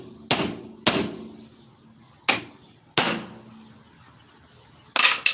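Hammer blows on a pickle fork to pop loose a vehicle's ball joint at the knuckle: five sharp metallic strikes, spaced unevenly and loud and close, each with a short ringing decay, in an otherwise quiet garage.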